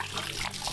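Water running and splashing while soil is washed off the roots of a juniper bonsai, a brief steady gush close by.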